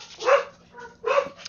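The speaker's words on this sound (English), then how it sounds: "Apologies for the dogs" Two dogs bark in short bursts, one loud double bark near the start and another near the end, with a fainter yip between, close by and alone with no talking.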